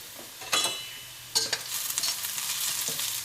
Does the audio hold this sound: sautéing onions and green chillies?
yes